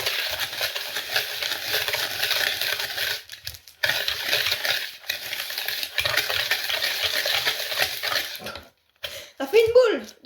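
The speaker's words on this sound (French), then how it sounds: "Et on touille. Jusqu'à ce que ça blanchisse." A spoon stirs a mixture in a bowl until it turns pale, making continuous close scraping and swishing with brief pauses, and a voice speaks near the end.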